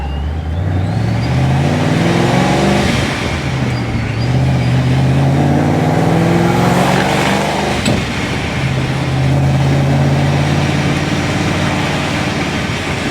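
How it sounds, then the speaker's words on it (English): A supercharged car engine with a loud blower runs close by, its whine and rumble rising and falling through several revs over a steady heavy idle. "This thing's loud. All you hear is blower."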